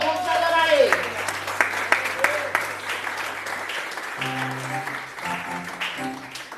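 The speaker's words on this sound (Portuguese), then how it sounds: "Aplauda o Senhor." Church congregation claps during a worship service, a dense round of applause mixed with voices and music tones, keyboard notes sounding under the clapping.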